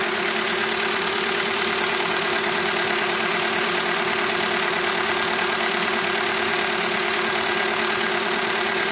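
A Perkins diesel engine idles on a Hyster roller compactor, running steady and loud with an even low rumble and a constant mechanical clatter, no voices.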